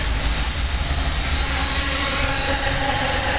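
A DJI F550 hexacopter drone flies close by with a steady, dense, high-pitched whir of motors and propellers, constant and loud throughout.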